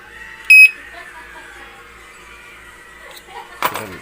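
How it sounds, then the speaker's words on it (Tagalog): A motorcycle disc lock's anti-theft alarm trips with a short, piercing electronic beep, followed by a quiet stretch and a sharp rattling clack of the lock being handled near the end. "pag once na nagalaw yung ating device ay automatic na mag-a-alarm na siya"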